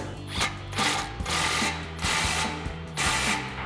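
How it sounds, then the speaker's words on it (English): A 16 mm socket on a ratchet snugs down an exhaust clamp on a Ford F-150 fitted with a C&L Proven Ground Series dual exhaust, giving close, repeated bursts of quick metallic clicking in several strokes. "So now we'll snug this clamp down using our 16 mil socket."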